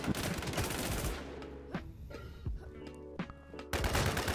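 Rapid automatic gunfire rattles in bursts in the video game Warzone, dense at the start and the end with scattered single shots and ringing tails in between, close and loud.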